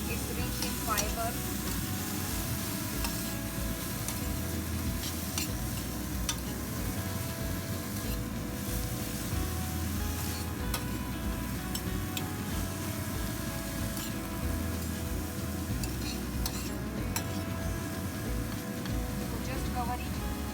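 Food with red chili powder is stirred in a pan for a Taiwanese-style dinner plate. It sizzles continuously, with the spatula scraping and ticking against the pan, and a voice talks at times.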